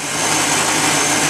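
A steady, smooth idle from a 2003 Chevy Silverado pickup's 6.0L V8, a dense even hum with no revving, heard up close for about a second.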